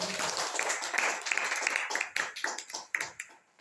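An audience at a church gathering claps in scattered bursts, uneven and loosely timed, close and moderately loud, tapering toward the end.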